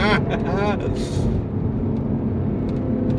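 Mercedes W204 C63 AMG engine accelerating in second gear on a frosty day, a loud deep steady roar heard from inside the cabin, with a voice talking over it at the start.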